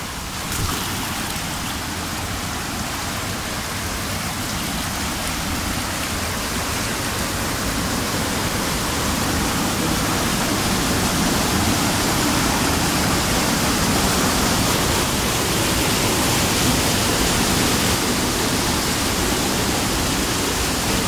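Steady, dense rushing of water flows through a canal beneath a highway bridge after rain, a constant broadband roar that holds for the whole stretch with no voices.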